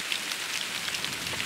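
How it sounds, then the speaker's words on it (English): Heavy rain pours outdoors in the wilderness, a dense, loud, steady hiss of drops drumming on surfaces throughout, with no voices. "you can see it's raining heavily here"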